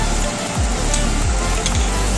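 Sour yogurt hits sizzling spices in a hot pan for a white potato curry, producing a loud, continuous hiss and crackle with faint stirring scrapes.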